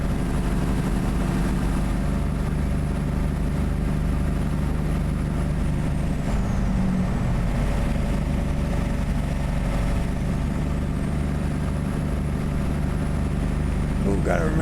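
In American Truck Simulator, a Kenworth W900 diesel truck engine, exhaust and turbo give a loud, steady low rumble throughout, with a faint turbo whistle sliding down and then rising again.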